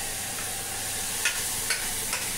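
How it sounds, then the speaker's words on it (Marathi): Spice tempering sizzling in a pan for masoor lentil dal: a steady, moderate hiss of hot oil with a few light clinks of a spoon against the pan. "फोडणी चांगली बनवून घेते."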